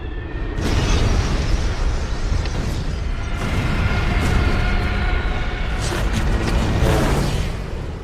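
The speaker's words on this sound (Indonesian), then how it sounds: "konvoi pesawat tukik Jerman tipe Junkers Ju-87 melintas di sana dan seketika membombardir benteng-benteng di wilayah tersebut" Bombs from a German Junkers Ju-87 dive bomber attack strike fortifications in 1939 Poland, a series of loud, heavy explosive booms rolling one into another with rumbling debris and sharp bursts, sustained and dense throughout, no voices.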